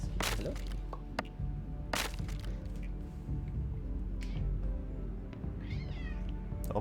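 A cat in the video game Graveyard Keeper meows a few times over a steady, busy game soundtrack, with clear mid-range calls near the start and a thinner wavering cry toward the end.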